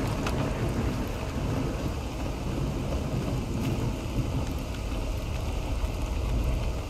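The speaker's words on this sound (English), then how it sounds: "Don't like this rain, can go away." Rain and rolling thunder in the video game Stalker Anomaly form a loud, continuous wash of heavy downpour with deep low rumble throughout, no voices.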